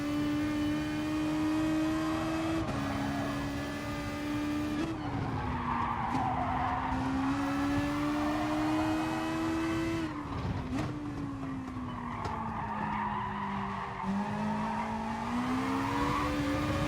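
Race car tires squeal and skid under late braking in the Gran Turismo Sport game, a sustained loud screech over a droning engine whose pitch dips and rises, continuous and close without any voices.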